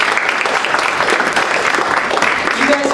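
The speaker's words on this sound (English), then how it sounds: "And give yourselves a round of applause for coming out." Audience at a town hall on a clean grid act applauding, a steady, dense wash of clapping from many hands that fills the whole moment without a break.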